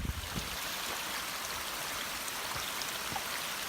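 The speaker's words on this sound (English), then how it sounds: "That water's fairly hammering down." Heavy rain pours down outdoors in a continuous, fairly faint rushing wash, with occasional soft splashes and thuds standing out against the steady downpour.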